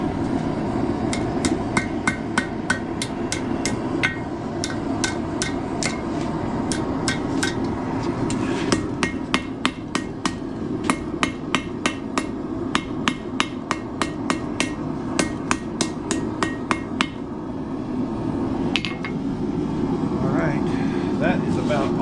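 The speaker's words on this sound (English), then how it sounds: "so I can hammer on it and not deform" Steady, ringing hammer blows on hot metal being forged into a heavy-duty stocking hanger, struck in fast rhythmic bursts over a constant roar of background noise, then stopping near the end.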